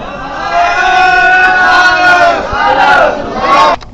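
A large crowd at a religious gathering chants religious slogans in unison, loud and close, in sustained swelling calls with voices overlapping.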